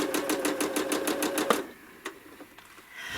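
A home sewing machine stitches slowly during free-motion quilting of a feathered applique background, a rapid even run of mechanical clicks for about a second and a half, then stopping, leaving a few faint isolated taps and quiet.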